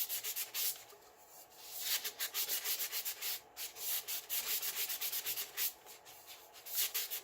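Sandpaper rubbing across an epoxy-coated glitter tumbler, with a steady series of close, scratchy back-and-forth strokes in a regular rhythm and brief pauses between passes, and no talking.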